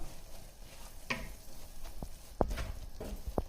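Dry masala heated in a pan for fish pulusu, giving a soft sizzle with intermittent scraping stir strokes and a few sharp ladle taps against the metal, close and fairly quiet.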